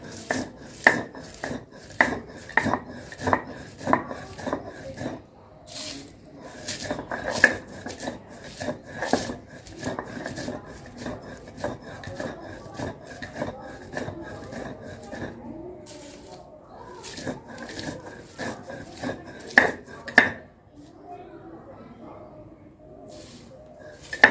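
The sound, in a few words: grinding cooled ingredients into paste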